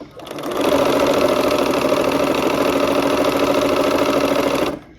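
Sewing machine running steadily while piecing quilt blocks assembly-line style, a loud continuous mechanical whir at close range, starting up after a brief pause and stopping just before the end, no talking over it.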